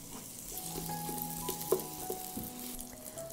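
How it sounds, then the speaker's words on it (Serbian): Onion frying in heated butter and olive oil, a quiet steady sizzle with a few utensil clinks and stirring, no voices. "Na zagrejanu masnoću dodajem luk."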